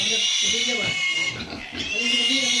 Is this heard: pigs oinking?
yes